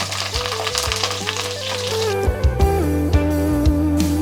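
Curry leaves and four slit green chillies crackle and sizzle in hot oil in a home kitchen pan, a steady close frying hiss with sharp pops bursting through, while strong tonal hum runs underneath.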